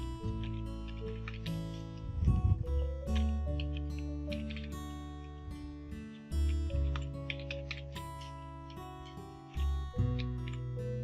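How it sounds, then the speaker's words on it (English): Quick, light keystrokes on a computer keyboard patter along while entering calendar text in MS Word, sitting under steady, loud tonal background music for the whole stretch. "Now let's type in the days of the week, starting with Sunday."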